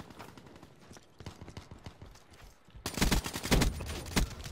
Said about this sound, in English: Stop shooting me, man.